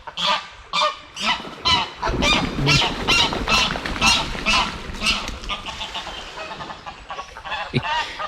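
An aggressive mute swan gives loud, harsh honking calls in rapid bursts close by, repeated through the whole stretch with brief gaps, over faint outdoor background.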